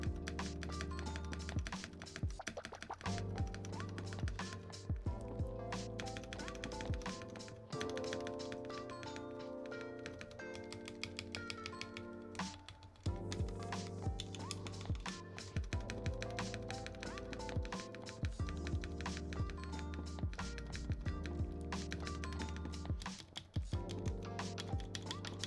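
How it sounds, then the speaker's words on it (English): Typing on a KBDFans KBD8x MKII keyboard with a Cerakoted case and Cream switches, with dense, steady, close-miked keystrokes running throughout over background music. "Imagine typing."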